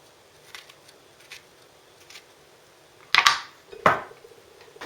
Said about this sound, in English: cut over the top